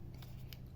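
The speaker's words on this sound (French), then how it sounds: "j'ai pris ce washi qui m'intéressait. Je vais le couper en deux, comme à mon habitude." Scissors cutting washi tape for an art journal collage, a few quick faint snips in a quiet room.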